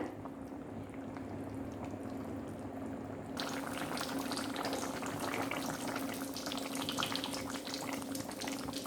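A fish and ladyfinger curry simmers in a pot, giving a steady bubbling, hissing boil that grows louder and fuller partway through and carries on without talk.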